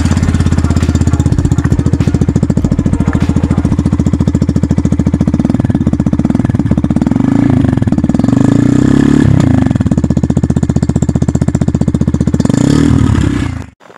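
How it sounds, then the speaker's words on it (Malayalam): A Yamaha FZ-X BS6 motorcycle idles loudly and close with a steady, rapid thumping exhaust note. A few throttle blips rise and fall midway, then the engine cuts off abruptly at the end. "നമുക്കിതിൻ്റെ സൈലൻസർ നോട്ടൊന്ന് കേട്ടു നോക്കാം."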